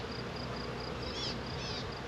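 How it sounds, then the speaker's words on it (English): Bees buzz around a hive of swarm-caught colonies, a busy continuous hum with individual insects droning past the listener at close range. "I saw a bee with pollen actually"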